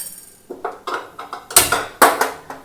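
A metal pressure cooker is set down on a kitchen stove, giving a quick series of close, sharp metallic clanks and clinks, with two louder knocks near the end and no talking.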